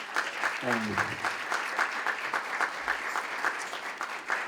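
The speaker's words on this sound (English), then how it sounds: "Senator Floyd McKissick, let's give him a round of applause" An audience at a fireside chat breaks into steady, sustained applause for a senator, many hands clapping at once, with a brief voice rising over it near the start.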